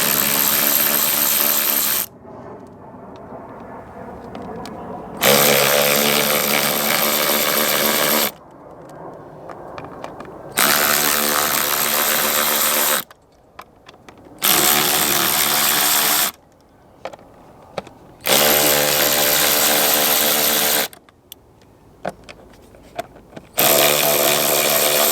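A power driver spins out T20 Torx screws from an MK7 GTI airbox, loud whirring bursts lasting a few seconds each, repeated about six times with short pauses and small clicks between.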